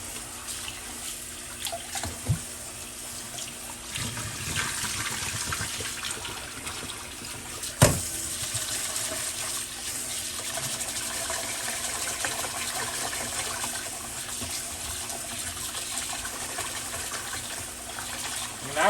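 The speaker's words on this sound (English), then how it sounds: "I'm rinsing off that rice." Rice being rinsed under a running kitchen tap, with a steady, moderately quiet rush of water and soft splashing as the grains are swirled. A brief clunk sounds midway, with no talk.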